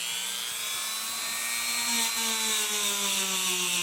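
A Dremel rotary tool spins a steel wire wheel against a rusty Slavia 618 air rifle part with WD-40, giving a steady high-pitched whine that slowly drops in pitch, close and continuous, with no talk.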